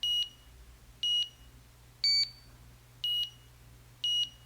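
A HONMAX 8800 gym timer on beep option three gives five short, sharp electronic bleeps at a steady one-per-second pace, close and distinct against faint background hum.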